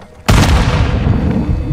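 Gunfire in the video game Modern Warfare II, a sudden loud boom that opens into a dense, sustained roar of rapid fire, close and overwhelming.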